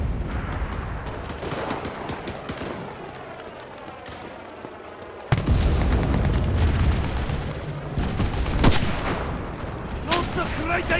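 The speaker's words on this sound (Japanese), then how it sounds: "歩兵隊、広場を砲撃してくれ。 了解、砲撃確認。" Artillery shells pound a town square in the Pacific War campaign of the game Enlisted: scattered gunfire at first, then a heavy blast and sustained rumbling booms with further sharp explosions, loud and close.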